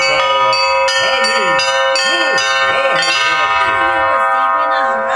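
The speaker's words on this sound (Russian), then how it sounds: "Колокольный звон в этот день не умолкал на подворье" Church bells are rung in a church courtyard during a celebration, a dense, continuous peal of overlapping clangs and ringing tones, loud and close, with strikes repeating roughly every half second.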